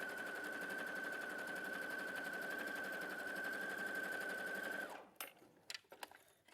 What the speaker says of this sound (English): I'm just going to sew.